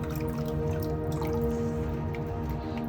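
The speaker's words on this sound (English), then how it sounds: "you shake out and pour away the water" Water is shaken out and poured off a Tillandsia air plant after soaking, giving a close, continuous patter of drips and trickling liquid with no talk.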